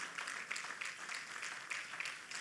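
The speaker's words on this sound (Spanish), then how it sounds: "Denle ese aplauso fuerte al Señor." A church congregation claps together in steady, dense applause, moderately distant and even, with no voices rising above it.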